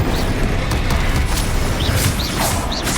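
Confringo and Incendio fire spells blasting in Hogwarts Legacy combat, a loud, dense wash of magical bursts and whooshing impacts with repeated short rising whistles, no talk.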